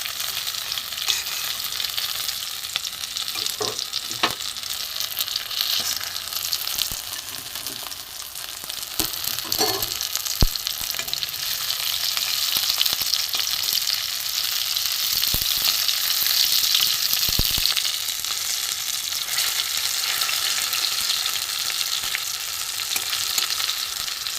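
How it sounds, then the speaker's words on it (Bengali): Potato-stuffed pointed gourd (potol) frying in hot oil in a pan, giving a steady, close sizzling hiss with a few faint clicks and pops throughout and no talking. "আলুর পুর ভরা পটল ভাজা হয়ে গেছে।"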